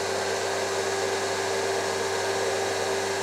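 A ShopSabre CNC router's vacuum table runs with all four zones open, a loud, steady whooshing roar with a constant hum and no break.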